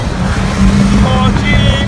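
A Mazda Miata accelerates at a Caffeine and Octane car meet, a loud engine rising briefly close by while people talk over it.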